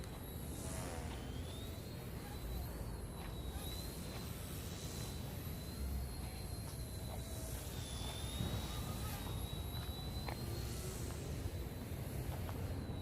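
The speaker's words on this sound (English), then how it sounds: "So, pretty fun little helicopter to fly." E110 Sentry RC helicopter flying at night, a steady high-pitched motor whine with whooshing rotor noise that wavers slightly in pitch as it hovers and manoeuvres nearby, against a constant outdoor background.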